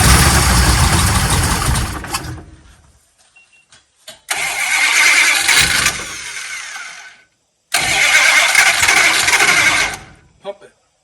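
A 1969 Dodge Super Bee with a misfire cranks and fires up loudly twice, each start settling into a rough, uneven idle for a few seconds before cutting off, with brief quiet gaps and short bursts between attempts.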